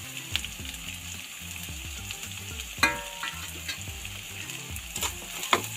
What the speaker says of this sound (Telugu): అలానే సన్నగా కట్ చేసిన బీన్స్ వేసుకుంటున్నా. క్యారెట్ కూడా సన్నగా తరిగి వేయాలి.